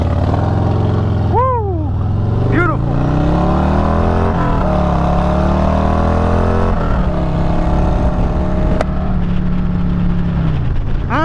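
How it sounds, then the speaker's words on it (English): A 2023 Harley-Davidson Street Glide ST motorcycle with a Sawicki exhaust pulling away, its loud, deep V-twin rumble rising through the gears as it revs up close, while a person calls out excitedly over the engine. "I'm going to start you guys off with a nice little pull-off sound, because this exhaust sounds good and I definitely want you to hear it"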